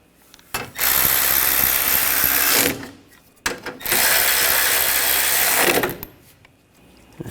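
Ratchet snugging down intercooler bolts on a 2013-2022 Buick Encore 1.4L, two loud sustained bursts of rapid, close ratcheting, each lasting about two seconds, separated by a brief pause.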